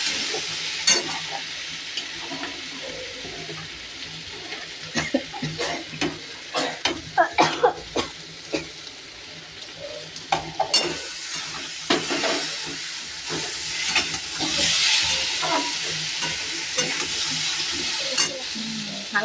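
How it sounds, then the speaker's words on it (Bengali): Pumpkin pieces frying in a pan while being stirred: a continuous sizzle broken by repeated scraping and clattering strokes of the spoon, growing into a brighter, louder hiss near the end. No one speaks. "এটা হচ্ছে কুমড়ো ভাজা।"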